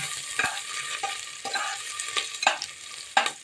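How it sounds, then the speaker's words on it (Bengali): Ginger and chilli sizzle in a hot pan while a spoon scrapes and stirs in irregular strokes, close by with no talking. "এটা ভালো করে কিছুক্ষণ আমি একটু ভেজে নিচ্ছি, একটু লাল লাল করে ভেজে নিচ্ছি"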